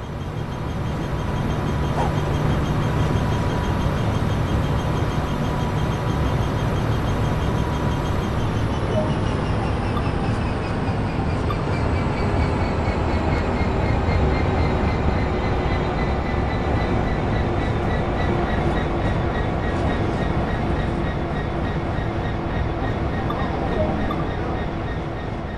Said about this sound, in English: Reduce the power to zero and allow the locomotive to coast.